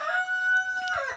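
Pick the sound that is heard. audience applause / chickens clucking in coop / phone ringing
chickens clucking in coop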